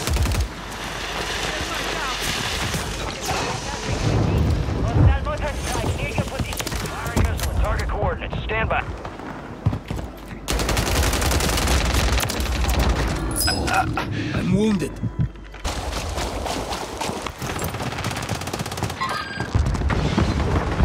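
Artillery barrage from a called-in fire mission in Call of Duty: Warzone, dense rolling booms and rapid gunfire crackle filling the scene, loud and continuous, with voices talking over the battle.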